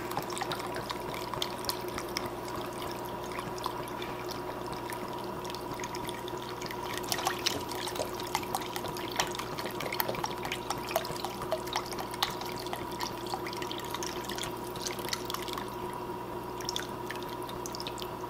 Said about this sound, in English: So I'm putting in the rest of this beef stock.